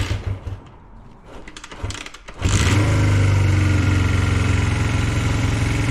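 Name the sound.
Honda CB125 twin motorcycle engine idling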